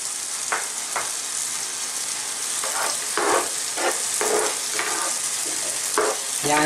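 Two beaten eggs frying in a pan over cooked tomato for tilapia sarciado sizzle loudly and steadily, close up, while a utensil scrapes and stirs in several uneven strokes, with no talking.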